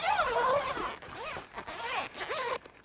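The zipper on an ARB vehicle awning cover pulled in several quick, rasping strokes, close by, with short pauses between the runs.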